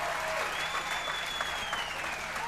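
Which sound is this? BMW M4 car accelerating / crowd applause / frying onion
crowd applause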